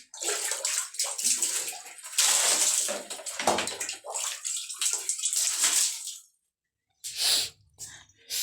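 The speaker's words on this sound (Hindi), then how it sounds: "पानी को मैं नाली में गिर दूँगी" Water is poured from a container into an outdoor drain, a splashing, gushing stream in uneven bursts that pauses briefly near the end before one more short pour.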